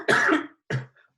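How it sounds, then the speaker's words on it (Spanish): Two loud, close coughs from a lecturer during an electronics class on rectifier circuits, a long harsh burst followed by a shorter one, with no talk around them. "La tos."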